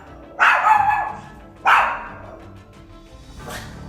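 A dog barks intensely, two loud, harsh barks about a second apart, then a fainter third bark further off, with quiet gaps between.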